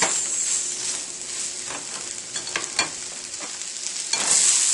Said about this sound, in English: Starting to really smell like caramelized onions.